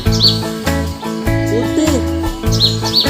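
Bali myna giving short, high chirping calls near the start and again near the end, heard over steady background music.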